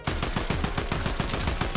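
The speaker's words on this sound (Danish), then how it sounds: "Og så en der, der skyder." Rapid, loud automatic gunfire in the video game Fortnite, a continuous burst of closely spaced shots lasting the whole moment with no talking.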